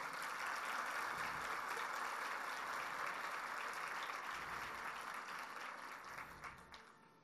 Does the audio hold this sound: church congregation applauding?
yes